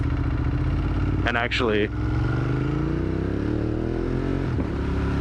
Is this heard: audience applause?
no